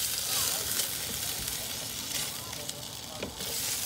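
Turkey sausage sizzles steadily in a hot pan, a dense close hiss with faint pops and a voice briefly in the background.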